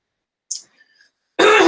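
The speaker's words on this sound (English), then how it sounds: "So I might be clearing my throat." A short, sharp throat-clearing sound comes close up after silence, followed by a burst of rough, breathy noise.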